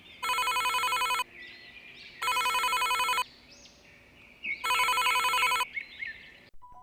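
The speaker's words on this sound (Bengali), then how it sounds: "তখনই ফোন আসলো।" A cartoon telephone rings in three loud, bright electronic bursts with short pauses between them, alone apart from faint background tones.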